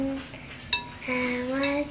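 Spoon mixing homemade play dough in a bowl, a couple of clinks and scrapes against the bowl close by, with faint voices in the background.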